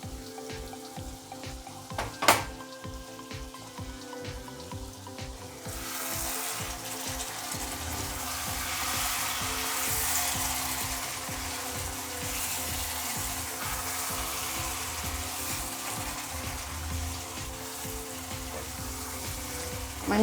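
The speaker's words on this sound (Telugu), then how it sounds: "మంచి పొడి పొడిలు ఆడేలాగా వచ్చేలాగా ఫ్రై చేసుకోవాలి." Mutton frying in a pan gives a steady, broad sizzle that swells after a few seconds and holds loud and even, with occasional clinks over it and no voices.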